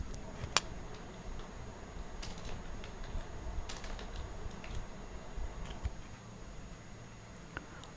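Typing on a computer keyboard, a quiet, irregular patter of clicking keystrokes with occasional sharper taps, close by, with no voices.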